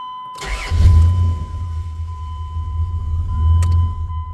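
A second-generation Dodge Dakota truck engine cranks briefly and fires, settling into a close, steady idle rumble that swells again near the end, with no talk.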